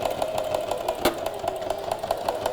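A sewing machine stitches a pocket reinforcement triangle, giving a steady, even whirring hum with regular needle ticks throughout and one sharper click partway through.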